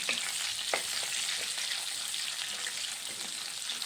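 Onions frying in a pan, a steady close sizzle with a few soft stirring scrapes and crackles running throughout, no voices.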